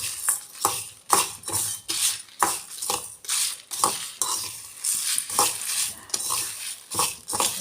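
Spices and mustard seeds dry-roast in a pan for homemade garam masala, with rhythmic scraping and stirring strokes and a light crackling rattle of seeds, close and repeated.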